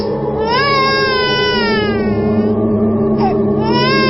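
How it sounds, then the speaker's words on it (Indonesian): Continuous, loud infant crying with rising and falling wails fills the span as a sound effect in a radio horror drama, with a steady low hum underneath. "terdengar suara bayi menangis."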